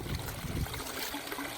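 Rainwater trickles out of a village farm field after heavy rain, a faint, even wash of running water that stays steady throughout the short stretch.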